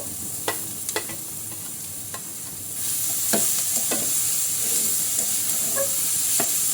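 Chicken frying with onions crackles in a pan, with scattered spoon clicks at first, then a louder, fuller sizzle with repeated scraping strokes as it is stirred.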